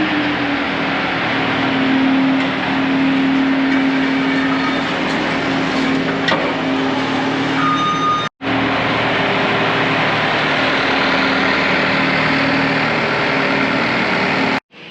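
A farm tractor's engine runs steadily nearby, a loud continuous low rumble with a brief dropout midway before resuming.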